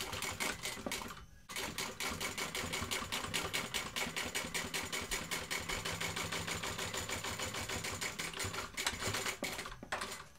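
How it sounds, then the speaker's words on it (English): A sewing machine top stitches a bag seam in rapid, steady bursts of needle chatter, pausing briefly once and again near the end, close and distinct with no voices. "we're going to top stitch through that"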